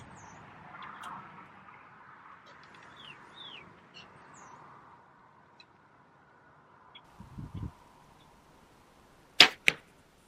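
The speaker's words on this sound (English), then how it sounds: "Now I will shoot my bow from last year so you can hear the difference in noise." A compound bow from the previous year, a Mathews, is shot outdoors with faint birdsong around, ending in a sharp twang and thud in quick succession, with a softer rustle just before.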